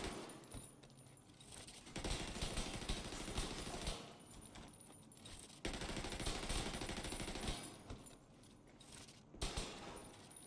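A light machine gun in a shooter video game fires long sustained bursts in several stretches, dense and rapid, with brief pauses between them, fairly quiet overall.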